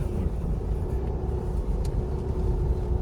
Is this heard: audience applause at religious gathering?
no